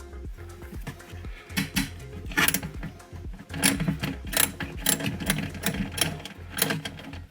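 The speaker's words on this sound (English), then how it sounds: "Socket to help me remove the nut fully." A ratchet socket clicks and clatters as it works a nut loose on the alternator of a 2014-2017 Chevy Caprice PPV, with close, irregular metallic bursts and tool taps.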